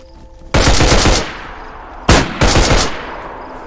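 Gunfire in the video game DayZ: two loud bursts of rapid shots, the first lasting about a second, then a pair of close cracks a moment later, each fading into a brief tail, with no voices.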